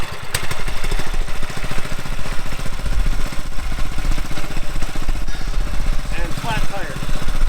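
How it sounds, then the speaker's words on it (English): An antique Wheel Horse lawn tractor fitted with a new Kohler-copy engine runs steadily close by, its loud, even chugging engine note continuing throughout with slight rises and falls. "the maiden voyage of this thing in lots of years. With the nice brand new Kohler knockoff engine."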